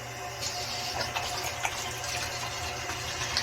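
Liquid pours steadily into a container to soak a greasy, slightly corroded range hood filter, a continuous close splashing wash with small bursts, no talking.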